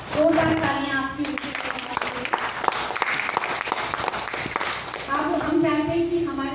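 Audience applause at an old age home event, steady clapping from a crowd filling the middle of the clip, with a speaking voice before and after it.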